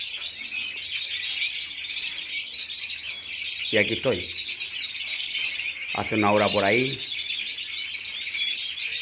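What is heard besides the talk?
birds chirping in the morning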